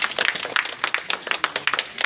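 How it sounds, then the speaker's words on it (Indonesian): An audience claps at an Indonesian poetry and literature stage event, a short burst of dense, uneven clapping with no voices over it. "Kita berikan tepuk tangan dulu,"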